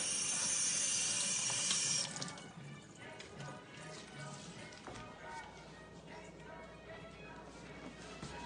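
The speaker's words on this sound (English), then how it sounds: "I get them wet in warm water." Warm water running from a tap to wet cotton towels, a bright hissing stream for about two seconds, then quieter dripping, handling and splashing, faint and close with a voice talking.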